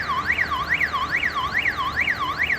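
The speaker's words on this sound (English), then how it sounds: "But the alarm is going off." A store alarm outside a Family Dollar wails loudly and continuously, rising and falling in a regular cycle about twice per second and heard close up from the parking lot.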